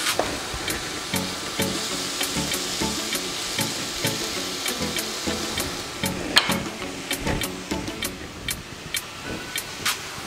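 Green banana curry sizzles and fries in a pan, with a continuous crackling hiss and occasional stirring scrapes up close, no voices.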